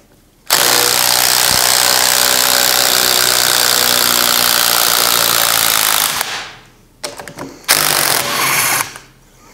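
An impact driver backs a screw out of wood with a loud, continuous buzzing hammer rattle that runs for several seconds, then stops and gives a few short bursts before falling silent.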